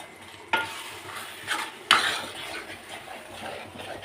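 Tomato gravy mixture with tomato powder, sambar powder, coriander and a little water being stirred in a pan, giving soft scraping and a few sharper utensil knocks against the metal.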